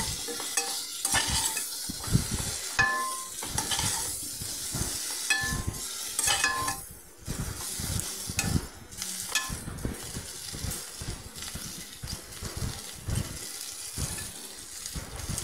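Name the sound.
stirring boiled potatoes into a pan on low flame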